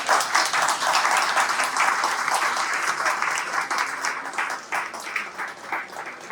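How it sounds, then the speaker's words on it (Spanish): Audience applause for the panel speakers at a talk on digital security and the future of AI in Ecuador, a dense and steady burst of many hands clapping that fills the whole stretch and thins slightly toward the end. "un aplauso, por favor, para nuestros ponentes"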